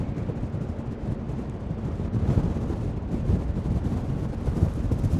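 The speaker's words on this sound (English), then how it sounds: "Hopefully we've got enough cover on the microphone not to be picking up this wind" Steady wind buffeting a microphone outdoors in Wellington, New Zealand: a continuous low, rumbling roar with gusty swells, loud and close, with no voices.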